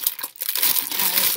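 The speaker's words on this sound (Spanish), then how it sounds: "Perdón por el ruido, pero es que viene con plástico." Plastic wrapping on a magazine crinkles and crackles close up as it is handled and pulled open, a busy rustle with a brief pause near the start.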